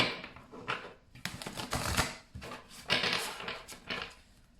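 Tarot cards being shuffled by hand, a close, quiet run of rapid papery riffles and soft slaps in several bursts, with no talking.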